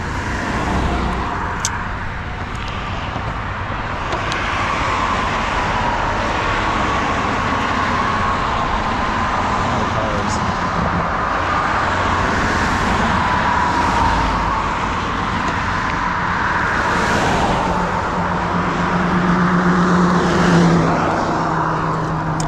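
Cars pass along a main street in a continuous roar of tyres and engines, with vehicles swelling and fading one after another, heard close from the roadside.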